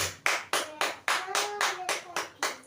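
A church congregation claps together in a steady rhythm of about eight loud, even claps, with brief gaps between each beat and no talk over them.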